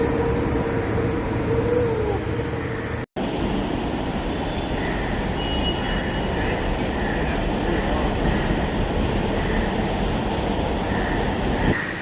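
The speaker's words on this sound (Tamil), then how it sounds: "ஸோ 8:15 ட்ரெயின் கரெக்டாக உள்ளே வருதுங்க." A metro train pulls into a station platform on an airport-to-Velachery route, making a loud, continuous rumbling roar with a brief dropout partway through.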